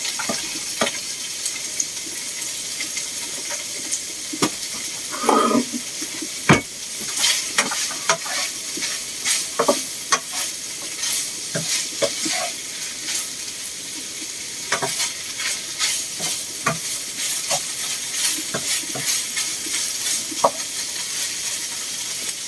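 Canned tuna and broccoli stir-fried in a pan, a continuous loud sizzle with frequent scraping and clattering of the spatula against the pan over a long stretch, no talking.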